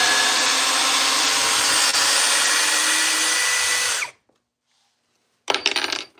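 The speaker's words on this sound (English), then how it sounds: "Let's drill some holes." A power drill bores into a piece of wood with a steady, loud grinding whir for about four seconds, cuts off into silence, then briefly starts again.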